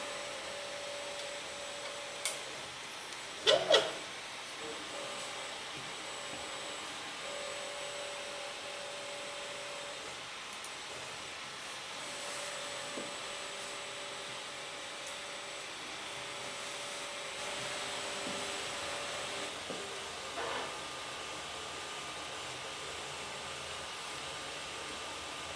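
Quiet mechanical whirring with faint stepping tones and soft hum from a working 3D printer printing a large spindle holder, steady throughout with a few small clicks.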